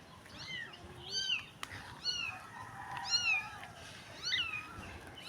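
A stray cat cries in a series of high, drawn-out meows on a dirty street, about four plaintive calls spaced roughly a second apart, fairly close over low background noise.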